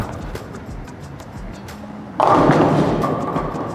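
A bowling ball is released with a heavy thud and then rolls down the lane in a sustained, loud rumble, set against the steady background noise of a busy bowling alley.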